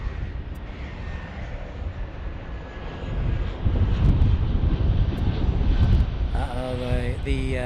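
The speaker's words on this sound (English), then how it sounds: "The sun is playing with our A321 arrival." An Airbus A321 airliner arriving at LAX in Los Angeles, its jet engine roar building to a loud, steady rumble with wind noise at the microphone, and a voice joining near the end.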